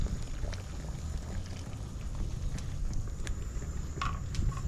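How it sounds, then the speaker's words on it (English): Fish head soup simmers in a pot with steady, dense bubbling and a low, continuous hiss, broken by occasional soft pops and light clinks, with no talking. "Now we're gonna combine all the ingredients in the pot and let it stay there and simmer"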